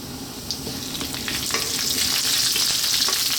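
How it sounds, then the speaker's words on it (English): Steady, crackling sizzle of cumin seeds and curry leaves frying in hot oil, continuous and fairly close, with a few sharper pops and occasional stirring scrapes. "We're going to drop in our cumin seeds and our curry leaves, which can be quite noisy sometimes."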